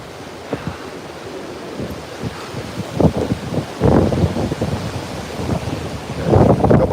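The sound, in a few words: strong Hurricane Beryl wind in Freeport, Texas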